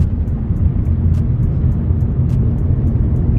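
Heard from inside a BMW M340i driving slowly on the road, a loud, steady low engine and road rumble drones throughout without pause.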